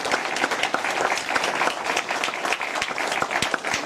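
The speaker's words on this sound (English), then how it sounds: "A round of applause for Richard as well." Audience applause fills a televised EU referendum debate hall, a dense, steady clatter of many hands clapping close and loud without pause for several seconds.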